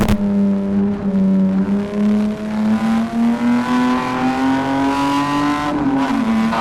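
A Jaguar race car engine at Cadwell Park during a CSCC Jaguar Championship race, a loud continuous roar rising steadily in pitch as it accelerates, with a brief dip near the end as it shifts or lifts.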